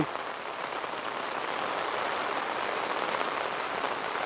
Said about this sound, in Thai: เวลาฝนตก